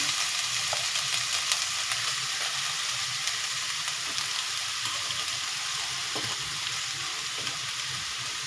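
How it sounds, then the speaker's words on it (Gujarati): Crushed green coconut roasts in a pan over a low flame, giving a steady soft sizzle with faint stirring scrapes throughout, close up and with no voices. "એકદમ ધીમા તાપે શેકવાનું છે 4 થી 5 મિનિટ"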